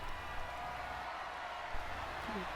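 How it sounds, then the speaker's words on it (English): WWE 2K23 wrestling arena crowd produces a steady, dense roar of cheering for the brief moment, loud and unbroken with no clear individual shouts. "And the crowd is loving this."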